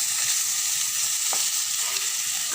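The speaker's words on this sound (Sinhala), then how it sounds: "තෙල් ටික රත් වෙනකොට අල ටික දා ගන්නවා." Potatoes fry in hot ghee in a pan, giving a dense, even hiss that holds steady throughout, close up, with one faint tap near the middle and no voices.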